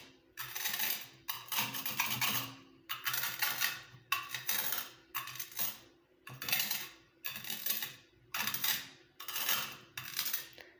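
A stone pestle pounds ingredients in an iron kadai, about a dozen sharp, clanking strikes in a steady rhythm, each ringing briefly before the next, close and fairly loud.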